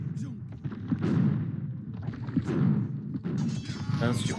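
Booming cannon fire in Age of Empires II, several heavy blasts spread through the clip under busy speech and battle noise.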